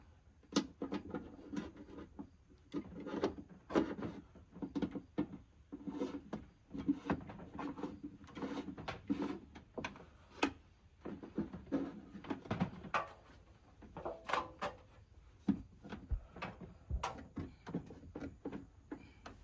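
Cable for a van's solar installation being pushed through two holes in the roof, with irregular close knocks, scrapes and rustling taps scattered throughout, no one talking.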